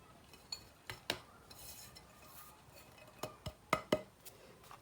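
Raspberry cake batter being mixed by hand after flour goes in, with a scattering of quiet scraping clinks of a utensil against a bowl, several sharp taps near the end, no talking.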